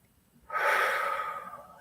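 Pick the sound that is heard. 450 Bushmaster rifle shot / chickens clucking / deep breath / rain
deep breath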